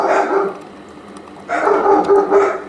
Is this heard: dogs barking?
yes